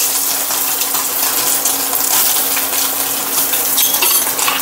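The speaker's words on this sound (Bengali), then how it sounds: "চলো একটু সোয়াবিনগুলো ভেজে নিই" Soybean chunks fry in a pan with steady sizzling and crackling, continuous and close, with faint scraping clinks.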